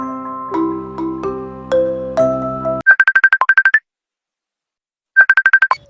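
An outgoing phone call starts with a run of descending keypad-style tones, then a rapid pulsing ringback trill sounds loud and close, pauses in silence, and trills again.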